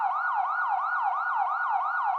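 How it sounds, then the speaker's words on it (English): A wailing emergency siren cycles steadily up and down in a fast, repeating sweep, loud and close with no talk; no car horns stand out. "the sounds of sirens and car horns filled the air"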